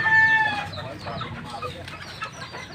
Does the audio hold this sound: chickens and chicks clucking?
yes